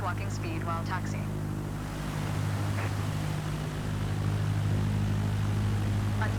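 A Cessna 172 in Microsoft Flight Simulator 2024 taxis with its propeller engine humming in a steady low drone, while a voice talks over it throughout.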